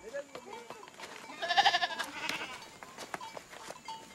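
Goats bleat several times, the loudest calls in the middle, amid rustling outdoor farm sounds with voices talking nearby.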